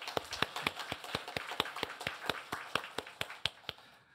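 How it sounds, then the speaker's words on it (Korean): A church congregation clapping in a steady, rhythmic beat, about five sharp claps per second for several seconds, moderately distant and fairly quiet in a reverberant room. "하나님께 감사의 박수 한번 올려드리겠습니다."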